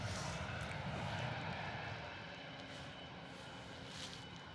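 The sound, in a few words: Bombardier Global 7500 business jet flying past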